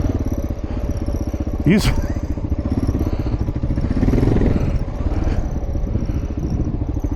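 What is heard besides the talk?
Kawasaki KLR motorcycle riding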